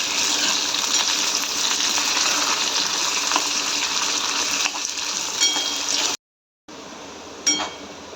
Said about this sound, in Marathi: कांदा हे सर्व जिन्नस लाल होऊपर्यंत आपल्याला भाजून घ्यायचे आहे